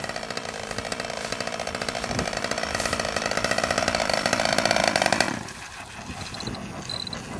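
A small glow or gas model airplane engine on a Stratus plane runs steadily and loudly, buzzing close by, then drops to a lower idle partway through while it keeps running.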